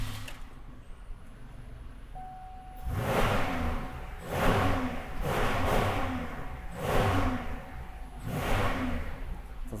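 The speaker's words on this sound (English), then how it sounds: "It was the jet car." Jet car exhaust making repeated loud surging roars, about five rising and falling bursts after a quieter start, each a broad rushing blast.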